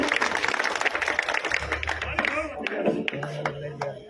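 Applause from a crowd at an outdoor BJP election rally in Bhadra, clapping steadily and fairly close for several seconds, with a voice speaking over it.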